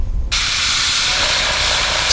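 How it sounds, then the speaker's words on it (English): Aerosol paint sprayed lightly over a stencil held against a fishing lure, a steady close hiss starting abruptly after a short pause and continuing evenly to the end. "And then just lightly spray."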